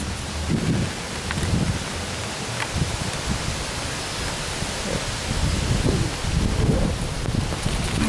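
Heavy rain pours in a windy thunderstorm, with a dense, steady hiss, gusty rumbling swells and low thunder-like booms rolling through, nearby and without talk.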